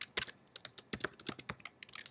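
Quick bursts of key clicks come from typing on a Mac computer keyboard, close and fairly soft, in irregular clusters.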